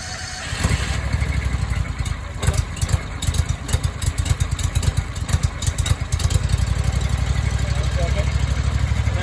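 A new Honda GX630 small engine runs close and loud after starting, a steady mid-pitched throbbing idle with some uneven bursts as it warms up, while someone talks over it.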